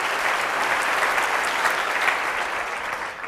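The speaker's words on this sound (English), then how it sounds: "give them a clap too" An audience at a public sociology lecture breaks into sustained, even applause, a dense wash of many hands clapping that fills the room steadily and then begins to ease off.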